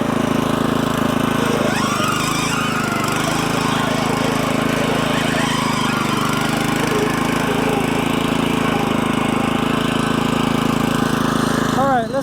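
A lawn topdresser's small gas engine runs at a steady throttle, a loud continuous rattling drone held close throughout.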